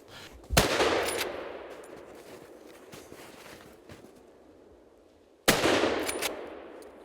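Two loud gunshots go off during a driven wild boar hunt outdoors, spaced about five seconds apart, each a sharp close crack with a rolling echo, and faint rustling between them.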